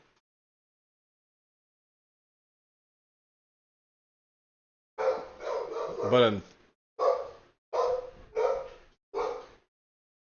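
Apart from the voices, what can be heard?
dog barking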